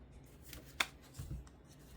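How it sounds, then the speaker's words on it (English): Tarot cards being shuffled by hand, a soft, quiet riffling and rubbing with one sharper snap near the middle, close by and alone. "Let me just shuffle 2 more times, Taurus, and we'll see what your tarot cards are today."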